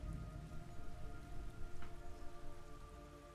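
Steady rain pours down in the Metal Gear Solid Delta game, a dense even hiss of drops with a faint tonal hum beneath, continuous and moderately loud.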